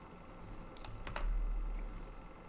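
Rapid clicks of keys on a computer keyboard as a web address is typed, close and fairly soft, ending in a single firmer keystroke.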